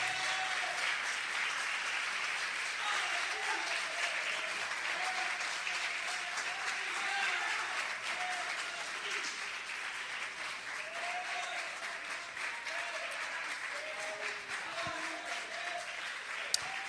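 Congregation clapping in praise during a Tuesday teaching worship service in a church sanctuary, a steady wash of many hands at moderate level, continuous throughout, with faint voices singing or crying out underneath.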